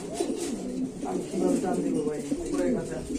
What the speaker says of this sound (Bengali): অনেক সুন্দর কবুতরটা রানিং পেয়ার